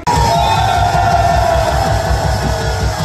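A large crowd roars and cheers at a Gwanghwamun political rally, a loud, continuous mass of shouting voices and whoops that holds steady for the full stretch without pause.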